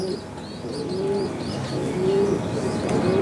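Racing pigeons in a loft making soft, repeated low coos against a busy background of chirps and other bird calls, steady and fairly close throughout.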